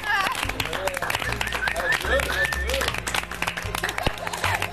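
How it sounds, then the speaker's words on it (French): Audience applause at a televised French reality-show ceremony, steady clapping under an announcer's voice and a bed of music throughout. "la voix vous demande d'applaudir à tout rompre"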